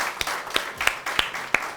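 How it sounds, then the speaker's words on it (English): Applause for a school at a national schools championship prize announcement, with sparse individual claps standing out over a steady wash of crowd noise across a short stretch. "Please clap for them."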